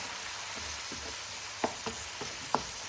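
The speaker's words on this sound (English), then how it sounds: "So we need to caramelize these onions," Onions frying and caramelizing in a pan for a Bangladeshi mustard fish curry, a soft continuous sizzle with a few light stirring clicks and taps, close and fairly quiet.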